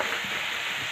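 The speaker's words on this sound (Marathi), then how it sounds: "आता अशी 2 मिनिटं आपल्याला हिरवी मिरची छान तेलामध्ये परतून घ्यायची आहे" Green chillies sizzling in hot oil, a dense, steady hiss of frying with faint stirring, close and fairly loud and without any voices.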